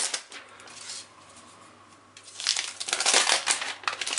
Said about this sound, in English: Just going to peel off all this cellophane.